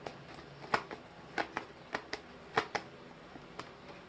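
Tarot cards being shuffled and flicked by hand, a scattered series of crisp snapping riffles and light slaps, close and moderately loud, with no voice over them.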